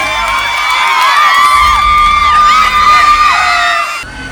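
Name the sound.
audience applause and cheering for pageant contestants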